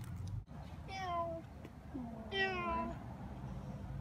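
Two drawn-out meows from a cat, close and clear, separated by a short pause, with a low background rumble.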